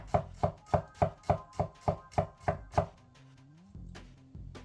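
A knife chops briskly on a wooden cutting board, about ten quick even strokes close up, then it stops and quiet remains.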